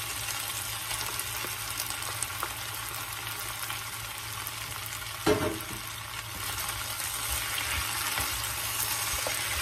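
Squid sizzles steadily in a pan with potatoes, a constant broadband frying hiss with a brief clatter partway through, no voices.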